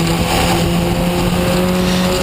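Historic Formula Ford race cars running in a train at Cadwell Park, a loud continuous high-revving engine drone with steady tonal whine, close and unbroken.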